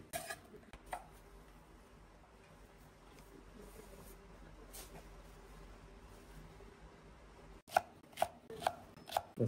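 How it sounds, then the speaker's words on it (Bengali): Okra (lady finger) being cut into large pieces with a knife, a run of quiet rhythmic board taps followed by several sharper, louder chops near the end, with no talking. "আর বাকি ভেন্ডিগুলো একটু বড় সাইজ করে কেটে নিচ্ছি"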